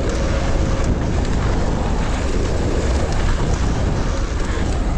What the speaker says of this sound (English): Yeah, loads of wind.